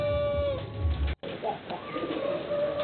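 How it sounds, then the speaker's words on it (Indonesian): A racing pigeon in its loft giving low, soft cooing calls, broken by a brief gap, close and moderately loud with a faint steady background hum. "Jadi ini burung yang saya kasih nama Patriot"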